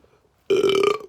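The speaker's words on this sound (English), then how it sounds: "Excuse me, I burped." A single loud burp from a person, low and voiced with a rough buzzing tone, lasting about half a second and heard alone with no talking.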